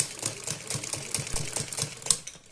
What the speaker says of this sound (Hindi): इसके बाद एक सिलाई हम इसके ऊपर लगा देंगे किनारे से थोड़ी दूरी पर